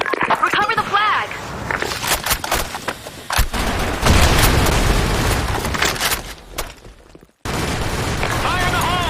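Grenade blasts and rapid gunfire in a Sand Storm multiplayer shooter match, loud and dense with booming impacts, under game announcer voice lines.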